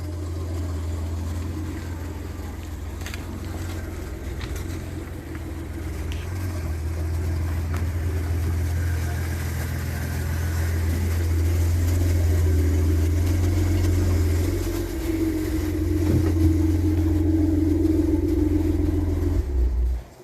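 A Maserati Quattroporte engine idles and rumbles steadily, with a low drone that swells slightly as the car is pulled out, close and continuous with no talking.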